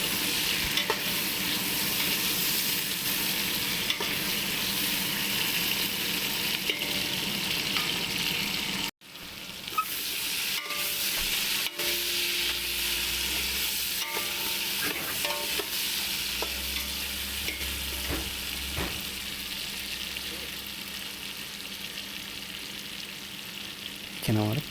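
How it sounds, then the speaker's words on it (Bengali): Potatoes stirred and fried in a pan for a Bengali rui fish-head muri ghonto, a steady broadband sizzle with scraping stirs throughout, briefly cut off once near the middle before resuming. "আলুটাকে আমি একটু নেড়ে চেড়ে ফ্রাই করে নেবো"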